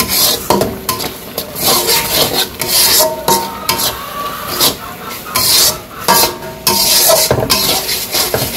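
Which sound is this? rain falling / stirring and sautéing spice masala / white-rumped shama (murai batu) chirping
stirring and sautéing spice masala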